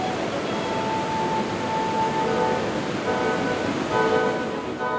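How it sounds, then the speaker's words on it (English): Steady, dense roar of thundering water at Niagara Falls, continuous and loud with no breaks. "The fury of the water and its deafening roar"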